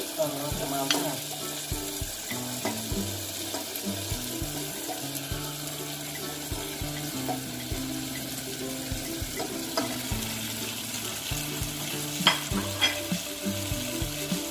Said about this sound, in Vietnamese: mình sẽ cho bí vào mình chiên luôn nha các bạn